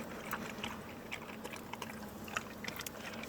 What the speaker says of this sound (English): that's the dog eating his food in the background